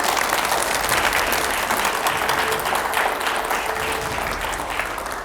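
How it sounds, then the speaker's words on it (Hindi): Loud, steady applause from a studio audience at a Hindi TV editors' panel show, continuous dense clapping for about five seconds before easing slightly at the end. "जरा जोरदार तालियां हो जाएं"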